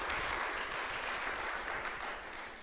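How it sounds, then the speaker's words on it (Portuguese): A church congregation claps in strong applause during a service, a dense, steady roar of hands that fills the whole stretch without any voices over it. "Então dê uma forte salva de palmas para ele."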